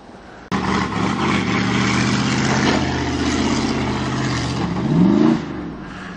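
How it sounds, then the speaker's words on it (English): A 1986 Pontiac Parisienne engine revving hard while driving up a hill on a farm, starting abruptly and holding a loud, rough, strained roar, swelling near the end, close by with no talking. "he's gonna try and put the Pontiac up there, but she ain't don't sounding too good."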